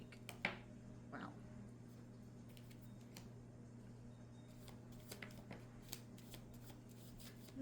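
A tarot card deck is shuffled close by, giving a series of soft riffling and slapping card sounds at uneven intervals over a steady low electrical hum, with no talking.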